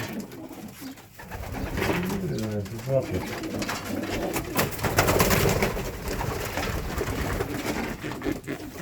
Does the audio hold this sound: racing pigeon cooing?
yes